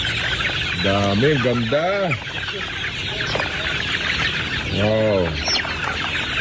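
Gamefowl roosters of breeds such as Sweater, Gilmore and Blue clucking and calling on a farm in Silang, Cavite, a few loud close calls over a busy outdoor background while people talk.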